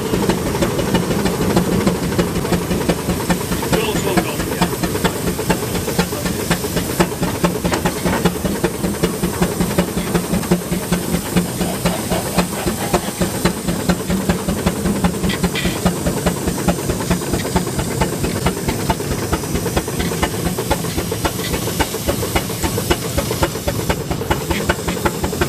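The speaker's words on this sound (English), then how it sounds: "I think this is the oldest traction engine on site today," A steam traction engine hisses continuously and loudly at a outdoor tractor show, with a rapid rhythmic mechanical chuffing running underneath the whole time and no talk.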